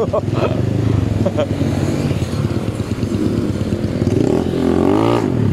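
Honda Beat FI scooter fitted with a Yolac racing cam revving loudly nearby, engine surging and climbing in pitch toward the end, with people talking over it.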